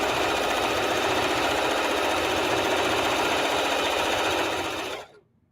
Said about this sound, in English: I'm just sewing some strips together until I get enough to make two